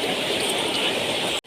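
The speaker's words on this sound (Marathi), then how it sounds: "पाऊस चालू झालेला आहे" Steady rain pours down over a busy open-air flea market in Pune, a dense continuous hiss that holds loud and even before cutting off abruptly near the end.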